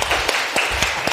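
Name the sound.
students clapping in a classroom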